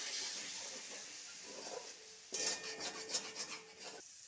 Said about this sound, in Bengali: সামান্য একটু জল দিয়ে আস্তে আস্তে নাড়তে থাকবো